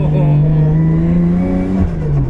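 A Lexus IS200 fitted with a Toyota 1JZ-GTE six-cylinder turbo engine revs steadily, its tone climbing and holding as the turbo spools up, loud and close throughout with no talk.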